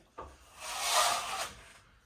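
A plastering trowel smoothing wet plaster on a curved surface gives one steady scraping rub that swells and fades over about a second and a half, close and alone.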